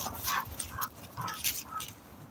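A German Shepherd-type dog makes soft whimpering whines and quick pants, several short bursts in an uneven rhythm, faint and close.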